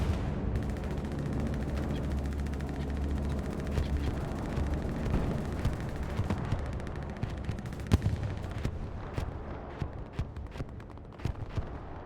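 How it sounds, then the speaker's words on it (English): Continuous rumbling bombardment from a bombing run on the Axis side in a World War strategy video game, with dense overlapping explosions and gunfire-like cracks building into sharper, louder impacts toward the end. "See a bombing run going on in here for the Axis side"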